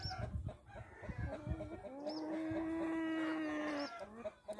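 A light Brahma chicken gives a drawn-out, tonal call lasting about two seconds, with softer clucking and scratchy farmyard noise around it, close by.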